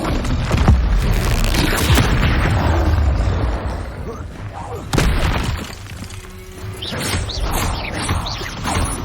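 Bombarda spell explosions in Hogwarts Legacy: heavy booms and shattering crashes, loud at first, dipping briefly in the middle, then a fresh blast and more impacts toward the end.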